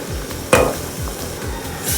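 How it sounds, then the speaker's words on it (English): Onion and tomato paste frying in oil for a gizzard stew, stirred in the pan: steady close sizzle with a few soft scraping sweeps and one sharper clack of the spoon against the pan. "So we'll give it a quick stir."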